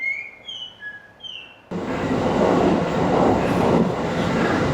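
Birds chirp briefly in quiet surroundings before an Akita Nairiku line train abruptly fills the scene with a loud, steady rolling rumble and rail noise close by.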